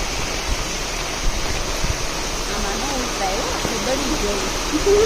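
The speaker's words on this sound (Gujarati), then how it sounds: "અને અહીંયા ફૂલ પાણી જાય છે." Rushing floodwater running full through a village channel after a heavy downpour, a dense and constant roar close by, with a faint voice surfacing near the end.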